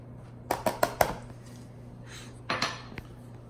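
A utensil clanks against a bowl while fathead dough of eggs and almond flour with garlic powder is mixed, giving four quick close knocks, then a softer scrape and a couple more taps.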